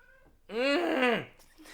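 A person imitates a cat's meow with one loud, drawn-out, wavering vocal mew that rises and then falls. It comes after a brief quiet pause and stands alone, with no other talk.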